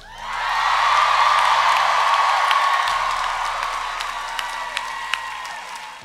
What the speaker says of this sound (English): can we get one last cheer for these guys?